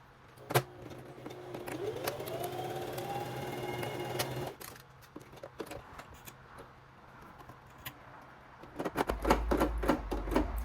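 A Brother sewing machine runs in short bursts while sewing and overlocking pajama fabric, its motor whirring and rising in pitch, followed by pauses and clicky handling noises near the end.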